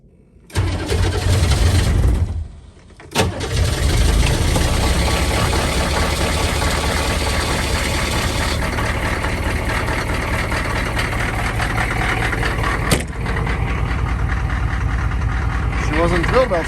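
A car engine turning over and catching on a cold winter day, cranking briefly, pausing, then firing into a steady, loud idle close by with a few knocks.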